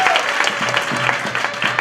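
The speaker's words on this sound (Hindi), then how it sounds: "भाई ताली बजाओ बच्ची के लिए, ताली बजाओ" Audience clapping for a young girl at a Vatsalya Diwas Mahotsav gathering, a short burst of brisk, close applause with a faint voice underneath.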